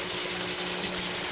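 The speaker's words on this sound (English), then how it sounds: "You'll notice that the vast majority of the volume of water that each pump is pumping is going through the filter system in the fish tank." Aquaponics pumps pushing water through pea gravel filters in a fish tank system, a steady broadband rush and gurgle of flowing water with a low constant pump hum underneath.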